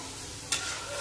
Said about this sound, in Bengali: জল দেওয়ার পর একটু নাড়াচাড়া করতে হবে সুজিটাকে।